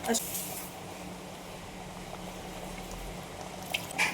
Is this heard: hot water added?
yes